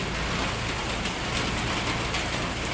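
Steady, even rain falling and pattering on surfaces, a dense continuous hiss with no voices.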